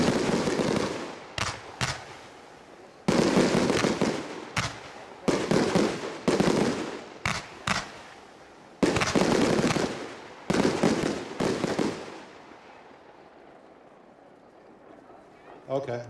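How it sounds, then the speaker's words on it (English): A fan-shaped 100-shot firework cake with deep red effects and white glitter fires a loud series of rapid crackling bursts in uneven volleys. A long fading crackle tail follows, and people talk throughout. "Last cake in this sequence is a fan-shaped 100-shot deep red, which is the blood red color, with white glitter."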